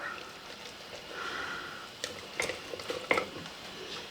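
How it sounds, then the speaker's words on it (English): Sourdough starter being stirred together with all-purpose flour in a container: soft, close scraping and a few sharp little clicks and taps, mostly quiet, with no one talking. "Just give this a little bit of a mix here now."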